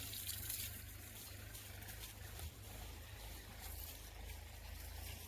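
Water poured steadily while watering plants outdoors, a continuous soft gushing and trickling wash, fairly close and even, with no talking.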